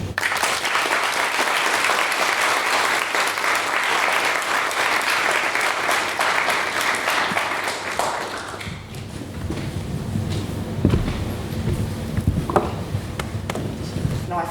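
An audience applauds at a literary talk as a guest is welcomed to the stage, steady loud clapping for about nine seconds that then gives way to footsteps, thumps and brief talk.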